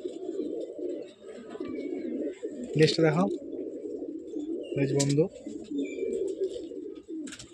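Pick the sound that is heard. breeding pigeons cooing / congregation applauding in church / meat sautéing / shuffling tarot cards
breeding pigeons cooing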